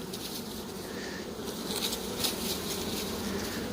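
A selection honey bee colony, number 17, hums softly at an opened hive, a low, continuous buzz of many bees that holds steady throughout without any talking.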